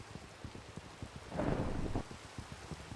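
Steady rain patters in a Minecraft-style video game with a low rumble of thunder swelling in the middle, then easing back into the rainfall.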